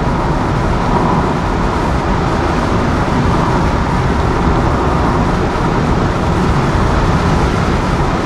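A damaged Ford Crown Victoria on the move, a loud, dense, steady road and engine rumble from inside the car with no pauses throughout.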